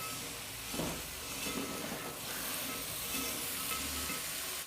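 Mixed vegetables for pulao, cauliflower and peas, frying in a pan: a continuous loud sizzle with a few louder stirring swells, heard alone, ending abruptly.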